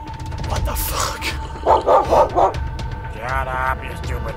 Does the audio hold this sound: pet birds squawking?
no